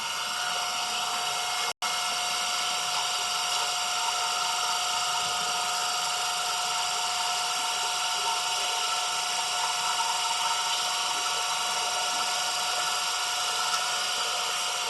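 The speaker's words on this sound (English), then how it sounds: "So we need to set the motor speed 1500 RPM." A DC shunt motor in a lab load-test setup runs steadily at about 1500 RPM, giving a continuous, even high-pitched whine with a constant tone and no pauses.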